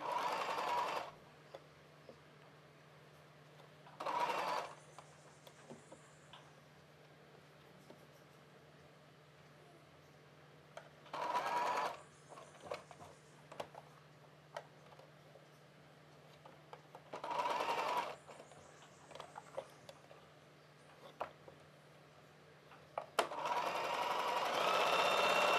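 A sewing machine stitches the neck part of a kids' summer frock in five short bursts of a few seconds each. Quiet pauses separate the runs, and no one talks.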